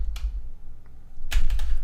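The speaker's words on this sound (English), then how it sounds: "I'm just going to smash the keyboard there." Quick bursts of computer keyboard typing, a couple of close, loud clusters of key clicks separated by a short pause.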